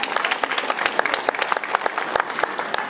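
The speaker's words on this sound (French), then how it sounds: "on peut applaudir une nouvelle fois" An audience at a French sports awards evening applauds, many hands clapping loudly in a dense, continuous burst with sharp individual claps standing out throughout.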